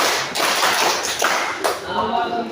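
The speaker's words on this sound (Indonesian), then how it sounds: "Kasih tepuk tangan sekali lagi" A class of students clapping their hands together in a classroom, a dense burst of close applause with a few sharper claps, and voices mixing in underneath.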